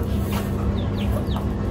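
Newly hatched young chickens cluck and peep in a warm indoor laundry room, several short chirps over a constant low hum, close by.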